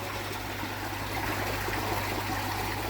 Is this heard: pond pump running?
yes